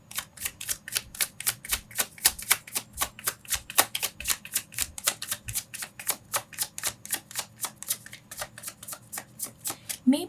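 Tarot cards being shuffled by hand. A long, steady run of quick, crisp riffling snaps is heard up close, with no voices over it.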